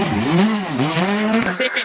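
A rally car on a stage roars past, its engine note sweeping up and down through gear changes with tire noise mixed in, loud and close for nearly two seconds.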